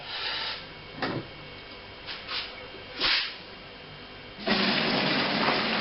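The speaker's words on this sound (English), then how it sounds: "I'm going to transfer this into the fermenter. Put a sieve in there just to catch any of the pulp and lemon seeds and the ginger." Ginger lemon brew pours through a sieve into a fermenter in several short splashing gushes, ending with a longer, steadier stream of liquid close by.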